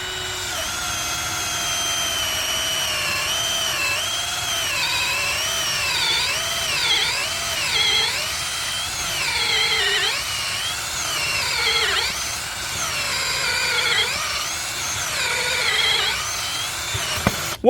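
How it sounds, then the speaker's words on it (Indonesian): A 12V cordless brushless DCK KDJZ23-10i drill on speed 2 in drilling mode bores a 10 mm auger bit into mahogany, a loud whining motor with wavering pitch that rises and dips under load for many seconds. "kita uji 10 mm ya. Medianya kayu mahoni, dan untuk kecepatannya saya gunakan kecepatan nomor 2, modenya mode drilling"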